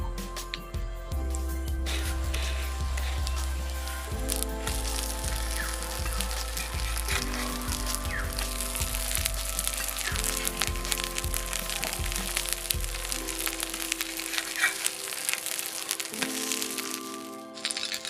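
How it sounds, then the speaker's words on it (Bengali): Broccoli fries on a hot tawa with a steady, crackling sizzle that runs close and continuous, marked by frequent small pops and spits, with no talk over it. "তাওয়াটাকে ভালো করে গরম করে তারপরে দেবেন আর হালকা আছে এগুলোকে ভাজতে হবে"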